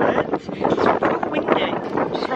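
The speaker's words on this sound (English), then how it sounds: "Windy out there." Wind buffets a microphone on a cruise ship deck, a loud, rough, continuous roar with gusty surges, and a voice may be faintly mixed in.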